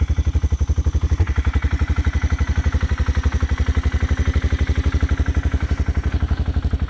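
A Polaris Sportsman 500 4x4 ATV engine, with a bad clutch, idles close up, giving a loud, steady, rapid thumping chug with faint mechanical clatter throughout.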